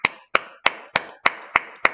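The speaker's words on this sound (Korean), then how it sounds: "오늘은 박수 쳐야 되겠다." Seven sharp hand claps in a steady, evenly spaced rhythm, crisp and close, with no talking, in a classroom lesson.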